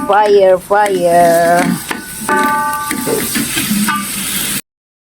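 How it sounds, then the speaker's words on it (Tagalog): Broccoli with oyster sauce is stirred in a sizzling pan, a close, steady frying hiss under a talking voice, followed by a sudden cut to silence. "Lagyan ko ng kaunting oyster sauce ang aking broccoli. At hahaluin natin siya."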